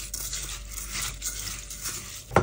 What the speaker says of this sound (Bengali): এখন এটা মাখায় নিব।